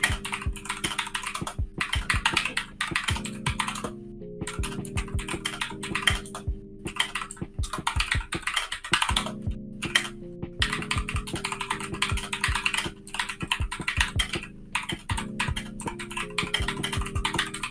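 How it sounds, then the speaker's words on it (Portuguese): Computer keyboard typing, loud and close, clattering like an old typewriter in rapid continuous bursts of keystrokes with brief pauses, heard during a Modern Warfare gaming session over steady background game music. "Máquina de escrever, foda. Caraca, mano, você é louco, parece que eu entrei numa salinha de curso de datilografia antiga."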